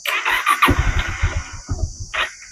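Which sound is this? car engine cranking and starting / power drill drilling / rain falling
car engine cranking and starting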